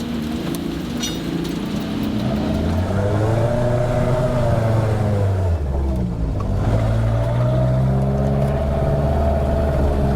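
A Renault 4L engine revs and strains while driving through muddy ruts, its pitch rising and falling as it pushes, with rain-like splashing and road noise loud and close throughout.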